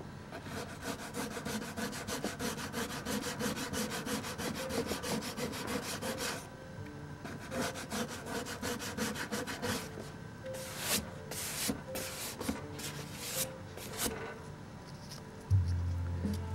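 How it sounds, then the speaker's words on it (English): Folded sandpaper is rubbed by hand along an edge during paintwork on a Windy 895 boat, making steady, close, scratchy back-and-forth strokes that continue in a fast, even rhythm throughout. "And I try to sand it from this side and from this side"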